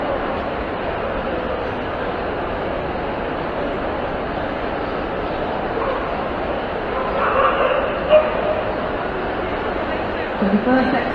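A whippet at a Kennel Club pre-beginners obedience competition gives faint, scattered yips and whimpers. They sit low under steady hall noise and a commentator's continuous talk.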